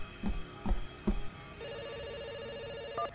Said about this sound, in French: Ah, le téléphone sonne, on va y aller.